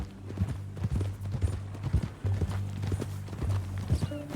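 Horse hooves clip-clop at a walking pace on a path in Red Dead Redemption 2, close and rhythmic with slightly uneven steps, continuous throughout.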